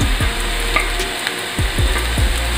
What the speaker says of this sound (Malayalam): അപ്പോൾ ഇനി ഇതിലേക്ക് നമുക്ക് പച്ചമുളക് ആഡ് ചെയ്ത് കൊടുക്കാം